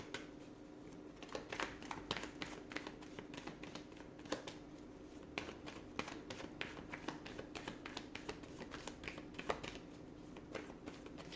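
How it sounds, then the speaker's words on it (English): Tarot cards being shuffled and pulled by hand, a faint, close run of quick papery taps and riffles in irregular bursts, with no voices. "I'm just going to pull a few more cards."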